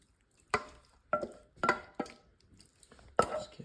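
Thick chicken spaghetti casserole mixture is tipped and scraped out of a bowl into a greased 13 by 9 baking dish, giving a handful of soft, wet thuds and clinks spaced a moment apart, close and fairly quiet.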